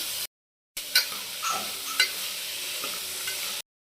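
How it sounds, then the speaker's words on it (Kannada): Soaked peas hit a hot pan and sizzle steadily, with a few clinks and scrapes of stirring, close and moderately loud with no talking. "ಹಾಗೆ ರಾತ್ರಿ ನೆನೆಸಿರುವಂತಹ ಬಟಾಣಿ ಹಾಕ್ತಾಯಿದ್ದೀನಿ."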